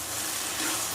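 Yellow cucumber and tomato sautéing in a pan: a steady, close, dense hiss of sizzling with no pauses and no voices.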